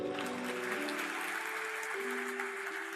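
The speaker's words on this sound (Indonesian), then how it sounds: "Kasih tepuk tangan untuk dia." Audience applause during a church sermon, steady clapping from a crowd heard under sustained musical tones.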